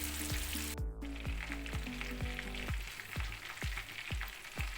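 Chicken pieces fry in hot oil with a steady crackling sizzle, heard under rhythmic background music with regular beats.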